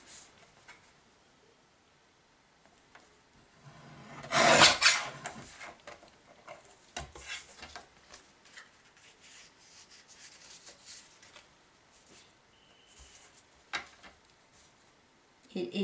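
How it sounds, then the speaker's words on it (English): A new, very sharp trimmer makes a loud rasping slice about a third of the way in, surrounded by softer rubbing and handling noises and a few light knocks. "I'm still getting the knack of this new trimmer."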